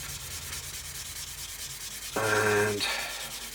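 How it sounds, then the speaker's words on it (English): Soft, close rubbing of a sanding sponge polishing the plastic of a Revell 1/32 Messerschmitt Bf110 C-2 model in quick strokes, with a brief louder tonal squeak partway through. "I've got this sanding sponge I'm going to use basically to polish up"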